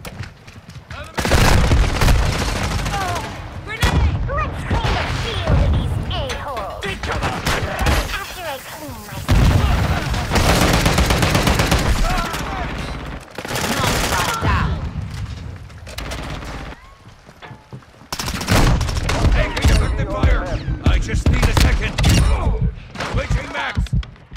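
Heavy bursts of gunfire and booms from a Call of Duty match, loud and close in repeated volleys with brief gaps, a voice calling out between the shots.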